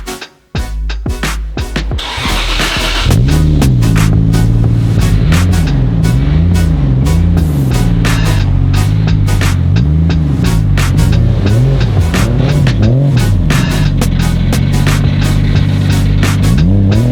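A Toyota JZX100 Chaser on a test drive, its engine droning loud and close with rising and falling revs in a wavy pattern as it accelerates and shifts.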